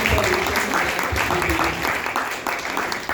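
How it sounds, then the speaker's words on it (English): An audience at a book launch gives a sustained round of clapping, dense and steady throughout, with a voice faintly underneath. "Can we give them a round of applause,"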